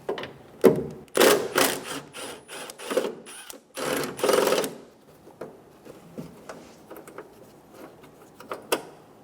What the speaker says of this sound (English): Remove the two 13mm bolts for the latch.